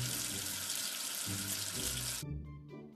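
Tap water runs steadily and loudly as soap is washed off a letter in a children's alphabet game, then the flow cuts off, leaving a few faint drips and splashes.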